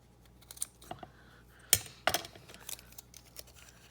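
Scissors cutting paper for an altered domino journal, a few sharp snips and crisp paper rustles close by, with soft handling sounds between the cuts.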